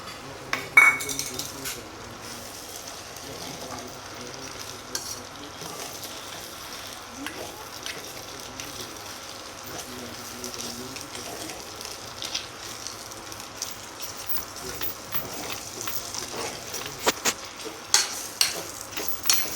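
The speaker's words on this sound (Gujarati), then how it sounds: "થોડી વાર ચડવા દઈશું અને પછી તેમાં ડુંગળી નાખી ગઈ છે" Onions frying in a pan during village home cooking of a turmeric curry, a faint continuous sizzle with scattered scraping and clinking of a stirring utensil against the pan.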